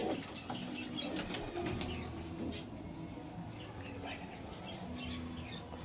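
Madras pigeons at a pigeon sale give soft repeated coos and squawks amid brief wing flutters, close and moderately quiet, with faint background chatter.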